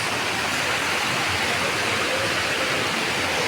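Water rushes over rocks where a forest stream meets a waterfall, a loud, dense and unbroken roar filling the whole clip, close by and with no voices.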